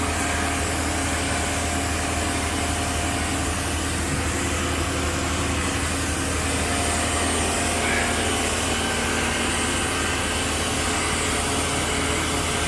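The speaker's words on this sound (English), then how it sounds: "My little Karcher pressure washer is quite noisy." A small Karcher pressure washer runs continuously while cleaning a Leyland National bus, a loud steady motor whine and spray hiss that stays level throughout.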